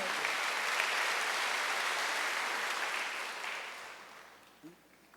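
A church congregation claps together during a Sunday worship service, a dense, steady applause that fills the room and then thins out and fades over the last second or so.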